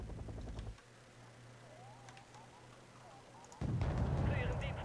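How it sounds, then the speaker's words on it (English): An artillery barrage in the wargame Wargame: Airland Battle, heavy booming rumbles that break off into a quieter lull and then return loudly, with faint distant pops and whistles in between. "Maybe we can take out this flak panzer with a nice artillery barrage"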